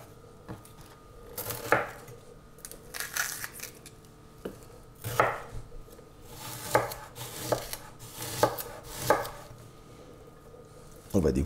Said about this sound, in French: on va tailler l'oignon